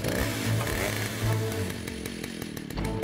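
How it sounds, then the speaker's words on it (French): A chainsaw engine in the Bob the Builder cartoon sputters and idles with a low rhythmic drone, revving unevenly in short bursts, close by. "Je vais mettre la tronçonneuse en marche."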